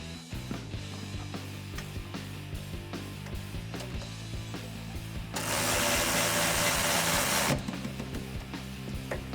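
A ratchet clicks in quick repeated bursts as 17mm hardware is tightened on a Supreme Suspensions front angled upper control arm of a 2004-2020 Ford F150, with a louder, denser mechanical rush midway and steady background music throughout.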